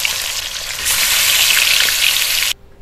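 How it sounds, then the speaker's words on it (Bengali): Fish sizzling in smoking-hot mustard oil, a loud steady crackle that swells stronger partway through, then cuts off abruptly near the end, with no voices. "তেলটা ধোঁয়া ওঠা গরম হলে খুন্তি দিয়ে মাছগুলো ছেড়ে দেবো তেলের মধ্যে"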